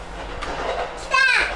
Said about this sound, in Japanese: あ、ほら、電車来る、電車。